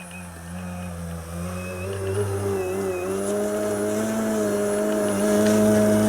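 An RC 3D model airplane engine droning steadily while hovering, a loud continuous buzzing whine that wavers slightly in pitch and slowly grows louder, heard alone.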